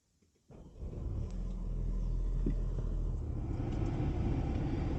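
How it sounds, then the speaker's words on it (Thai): A 2020 Mercedes-Benz GLA250 AMG facelift started by push button: a short starter whirr, then the engine catches into a loud, steady, close idle rumble with no talking. "แล้วก็เหยียบเบรกแล้วกดสตาร์ทได้เลยนะครับ ก็กดที่ปุ่มตรงนี้เนาะ"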